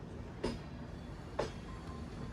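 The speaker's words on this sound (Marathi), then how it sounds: "ट्रेन चालू झालेली आहे, तुम्हाला दाखवतो आता बघा" Steady rumbling inside a moving passenger train carriage on a Mumbai to Hyderabad journey, with two sharp clunks about a second apart over the continuous rolling noise.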